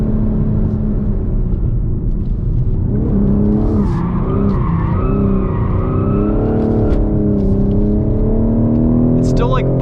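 A 2021 BMW M4 with a six-speed manual drifts on a track, its engine note rising and wavering while the tires squeal loudly and steadily throughout, and a voice talks over the car.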